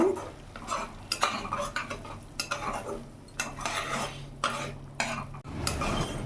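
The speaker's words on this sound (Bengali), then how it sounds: "এবার ভালো করে মিশিয়ে নেব।" A spoon stirs Kashmiri chilli powder into spices in a pan, making close, repeated scraping and clinking strokes in irregular bursts over a soft background hiss, with no talking.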